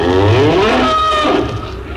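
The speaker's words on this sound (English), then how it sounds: "Oh, just poking around the cows." Cows moo in a radio drama sound effect, with loud, drawn-out lowing calls overlapping near the microphone and no voices over them.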